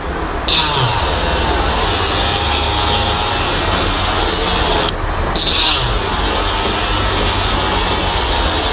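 A Redmi 8A phone board has its metal shield cut off with a power tool, giving a loud, continuous high grinding whine that cuts out briefly twice.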